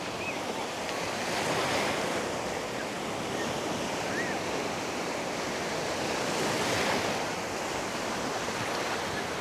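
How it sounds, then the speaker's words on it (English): Ocean waves wash steadily onto a sandy beach in a soft, continuous surf hiss that swells gently in places, moderately faint, with a little wind and no voices. "just listening to the sound of the waves"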